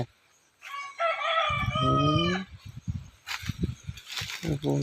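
A rooster crows loudly and close by in a long drawn-out call, followed by chickens clucking in short uneven bursts.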